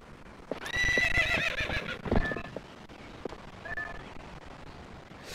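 Horse neighing in the game Zelda: Twilight Princess, a loud close whinny with trembling harmonic tones followed by a shorter second call and soft hoof clip-clops underneath.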